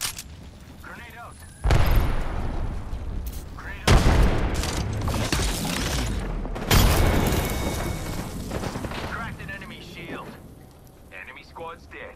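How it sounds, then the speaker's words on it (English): In the Apex Legends video game, a thermite grenade and gunfire erupt as several loud bursts with booming onsets, each followed by a sustained crackling, rain-like hiss; a voice speaks through the action. "Throwing a thermite grenade."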